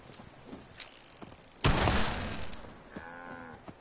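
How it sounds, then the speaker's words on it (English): Spooked cattle in the video game Fallout 76: a loud thudding burst of hooves and movement near the middle, followed by a low, drawn-out moo. "Sorry, I might have spooked the cattle."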